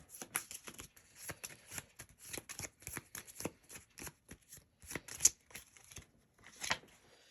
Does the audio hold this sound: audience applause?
no